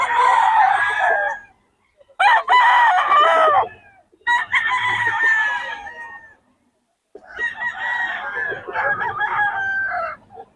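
A 15-month-old bull stag rooster crows loudly and close by, several long drawn-out calls separated by short silent gaps, with faint clucking underneath.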